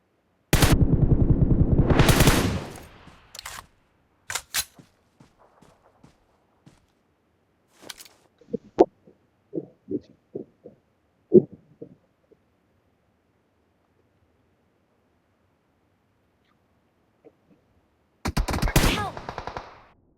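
Gunfire in the PUBG video game: a loud automatic burst opens, scattered single shots and distant pops follow, and another sharp burst of rapid fire comes near the end.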